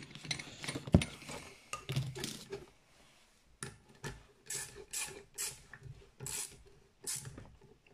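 A ratchet works on the ignition of an MBK Nitro scooter during reassembly, giving faint clicking ratchet bursts and small metallic knocks in short repeated runs, close by and quiet, with no talking.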